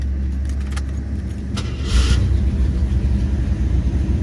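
The engine of a 1987 Jeep Grand Wagoneer with overdrive transmission idles steadily at close range, a smooth low rumble with some faint clinks and jangling over it.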